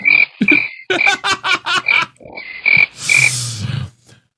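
A cricket chirping sound effect plays as a gag during a game-show tournament round: a loud burst of rapid, repeated chirps in quick pulses, with no voices.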